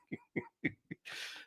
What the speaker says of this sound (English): It coincided with me coughing and not being able to talk.